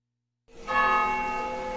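A noon church bell for the Angelus strikes once after a moment of silence, its bright metallic tone ringing out and sustaining as it slowly fades.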